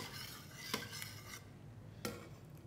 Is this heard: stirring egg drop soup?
yes